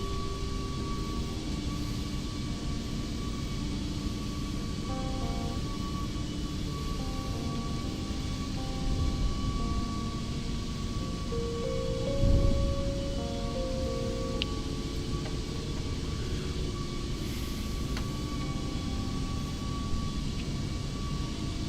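Rotate MD-11 jet engines in the X-Plane 12 flight simulator give a steady, droning roar with a constant whine and low rumble, continuous and even, with faint tonal shifts.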